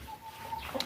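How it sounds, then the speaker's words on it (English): A brooding hen gives a short, soft cluck close by, a brief muffled call at the end of a quiet moment. "there is a hen here that I locked yesterday because she's ready to hatch"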